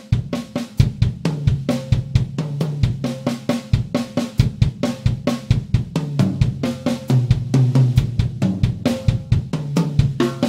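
A drummer plays a syncopated linear pattern of kick, snare and tom hits over a steady, ticking hi-hat pulse, repeating evenly for several bars.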